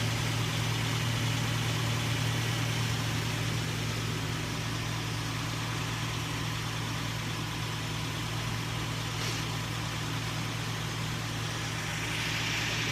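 A 2003 Nissan Frontier pickup with a 3.3L V6 engine idles evenly in neutral, a quiet, steady low hum with a smooth drone and no voices.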